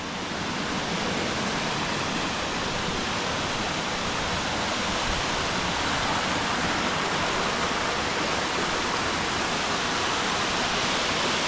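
A steady, full roar of a waterfall on a Great Smoky Mountains trail, broadband and constant throughout with no voices, close enough to fill the whole scene.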